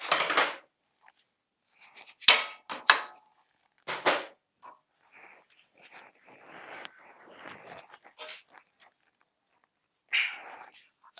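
Repeated metallic hammer strikes while removing a Royal Enfield rear shock absorber, with a long screwdriver used as a drift; several sharp, close knocks come in irregular bursts separated by quieter scraping.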